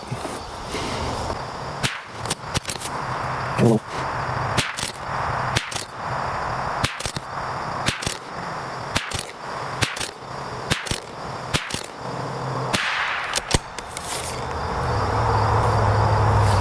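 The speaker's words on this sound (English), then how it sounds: "So, all right, CCI Mini Mags are next. All right, first 10-shot group." .22LR rifle firing a 10-shot group of CCI Mini Mag rounds on an outdoor range: ten sharp, evenly spaced cracks a second or so apart, loud and close, with quiet background between shots.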